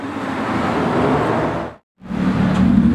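A straight-piped Lamborghini Murcielago Super Leggera drives past, producing a loud, close engine roar that breaks off in a brief silent gap and then surges back, with no speech.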